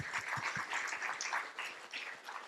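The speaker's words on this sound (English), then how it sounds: "Now clap for all our ancestors." An audience at a chapter day celebration claps together in a continuous, moderately loud patter that fills the whole stretch without pauses.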